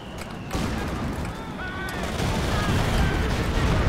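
Dense, rumbling battle noise from a WWII tank game on a D-Day map, with tank cannon fire blending into continuous booms and explosions, loud and close, with no clear separate shots.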